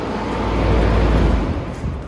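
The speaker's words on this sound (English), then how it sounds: "As usual, I have to turn the fan off." Electric fan running in a garage during a car wrap job: steady, loud, windy roar with low rumble, continuous and close, with no voices.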